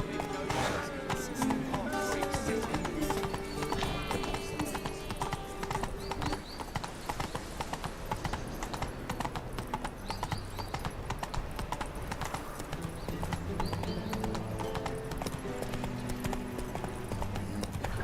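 A horse galloping in The Witcher 3, steady rapid hoofbeats close and continuous throughout, with game music and ambient sounds underneath.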